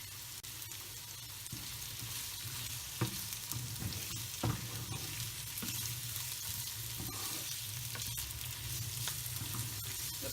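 Medium chopped onion sautéing in oil in a pan for chicken roast, a dense continuous sizzle with occasional spatula knocks and scrapes, steady and close throughout.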